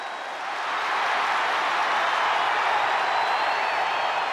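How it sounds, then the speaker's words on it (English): The arena crowd in the WWE 2K23 video game gives a roaring ovation for Bianca Belair in a Halloween Elle in a Cell match, swelling up in the first second into a steady, broad wall of cheering. "Listen to this ovation."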